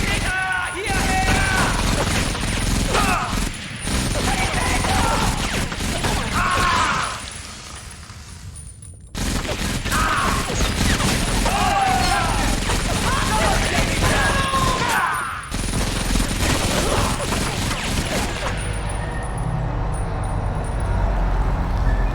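Rapid gunfire from a World War II shooter, Medal of Honor Vanguard, with bursts of shots, impacts and crashes running dense and loud. The bursts break off in brief pauses, and the clip ends quieter.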